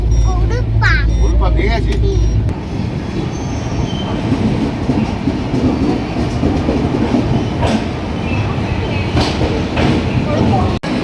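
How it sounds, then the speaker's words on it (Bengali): Shalimar–Puri Superfast Express (12887) running at speed around 118–120 km/h, with loud continuous rumble and rattling of the carriages, a brief low roar at the start, and faint squeals and clatter throughout. "পুরী সুপারফাস্ট এক্সপ্রেসের রানিং স্পিড আছে একশো কুড়ি একশো আঠেরো"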